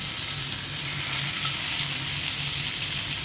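A rohu fish head fries in hot oil, giving a steady, close sizzle with a soft bubbling hiss and no talking.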